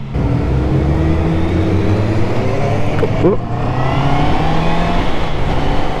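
A 2025 Honda CB650R with E-Clutch revs its engine loudly and up close, the pitch climbing and dropping as gears are changed without the clutch lever, with a brief dip in the note partway through.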